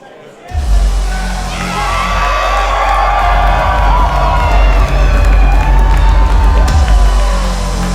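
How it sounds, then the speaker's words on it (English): A crowd at a live wrestling event breaks into loud cheering, whoops and shouts that start suddenly after a quiet instant and hold steady, close and full, to the end, with a commentator's voice under it. "Listen to the crowd"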